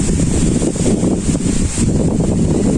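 Steady wind from Cyclone Remal buffeting the microphone under a cloudy village sky, a constant low rumbling roar with gusty surges throughout.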